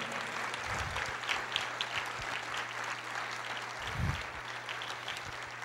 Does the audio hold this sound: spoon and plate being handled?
no